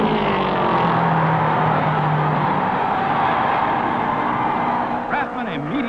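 A 1960 NASCAR Grand National race car roaring across the finish line, a loud, steady engine drone filling the track soundscape, with a voice briefly cutting in near the end.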